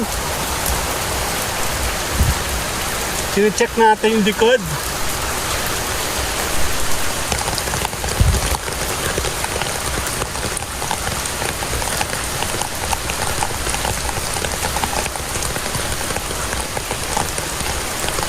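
Heavy monsoon rain pours steadily onto surfaces around a house, a dense unbroken hiss that fills the whole stretch, with a brief voice speaking early on.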